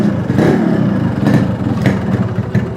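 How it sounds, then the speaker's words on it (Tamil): Scooter or motorcycle engine, an old two-stroke bike such as a Yamaha RX100 with a fitted carburetor, revving in loud repeated bursts close by with no talking. "எமர்ஜென்சியாக ஸ்கூட்டர்லாம் இப்போ ஸ்டார்ட் பண்ணுறதுனா எப்படின்மா"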